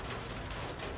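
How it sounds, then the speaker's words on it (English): Rain falls outside a van parked in Venice, Los Angeles, a steady soft patter on the roof with no voices. "Yeah, I love the rain sounds, honestly."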